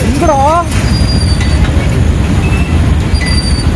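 Train running past a railway crossing in Coimbatore, a loud continuous rumble of wheels and wagons with a brief squeal near the start, under a news voiceover.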